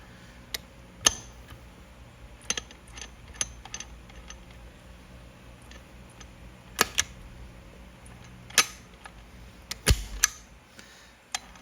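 Scattered sharp metallic clicks and clunks as the gearbox of a TC 125 motorcycle engine is shifted through its gears by hand, a dozen or so irregular taps in a quiet room.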